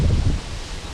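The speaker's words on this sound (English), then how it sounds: "And sorry about the wind." Gusty wind buffets a garden in humid, pre-rain weather, a loud low rumble against the microphone easing slightly after the first half second.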